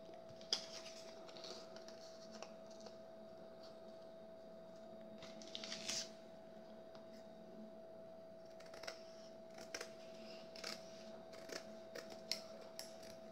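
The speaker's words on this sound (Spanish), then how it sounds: "Lo cortamos en la tela de arpillera." Scissors snip through burlap fabric for a recycled Christmas curtain tie-back, giving soft, scattered crunchy cuts over a steady faint background hum.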